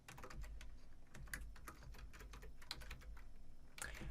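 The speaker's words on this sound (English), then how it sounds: "I'm going to type it in" Fast, irregular keystrokes clatter on a computer keyboard, close and steady for about four seconds, with soft background hum and no talking.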